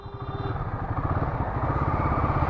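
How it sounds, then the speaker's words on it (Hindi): Royal Enfield Guerrilla 450 motorcycle engine revving up close, a loud, throbbing mid-pitched drone with a rapid pulsing beat that climbs gradually in level throughout, with no voices. "अब मैं रेस दे रहा हूँ, इतनी खाली जा रही रेस"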